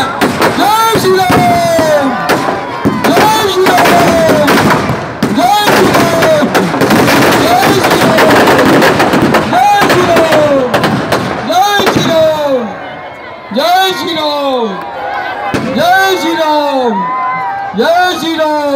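Fireworks burst from a burning Ravan effigy at a 2018 Dussehra event in Shahabad Markanda: loud, rapid crackling bangs and whistling rockets, dense then thinning into separate pops, with someone talking over a loudspeaker.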